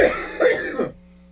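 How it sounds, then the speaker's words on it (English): Two or three throaty coughs come close to the microphone in quick succession, then cut off into near silence. "I'm going to cough now."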